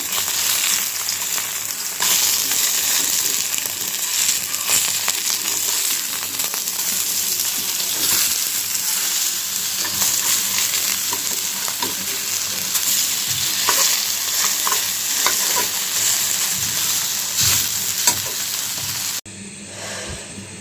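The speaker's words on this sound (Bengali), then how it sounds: "কলার থুরটা আমার ভাজা হয়ে গেছে এখন আলুগুলো একটু ভেজে নেব" Banana flower and small potatoes sizzle and crackle in hot oil for a long stretch, with occasional scraping and stirring sounds and no talking.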